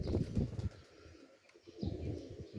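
Domestic pigeons from Kherson coo in a loft, low soft throaty coos repeating in two bursts with a quiet pause between, close by and fairly faint, with no talking.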